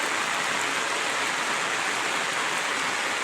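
Heavy monsoon rain pours down in Odisha, a dense, continuous hiss of downpour that stays loud and even throughout with no pauses or voices.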